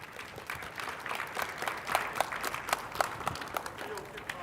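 Audience applause at a live-streamed community event after a budget announcement: scattered, moderately quiet clapping from a crowd, sparse and uneven, with a voice faintly audible beneath it.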